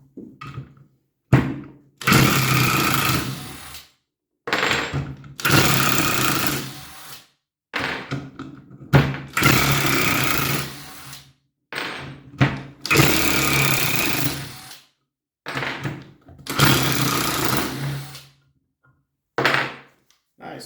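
Parkside 20V PASSK 20-Li cordless impact wrench taking out screws, a series of loud close bursts of hammering whir, each one to three seconds long, separated by short silences.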